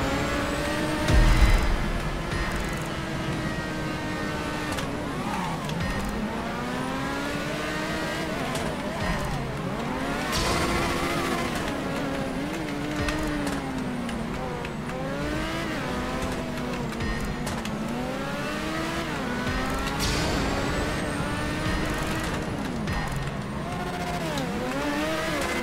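A virtual R88 open-wheel race car engine in a racing video game, revving steadily and loud with rising and falling pitch sweeps as it shifts through turns, continuous throughout.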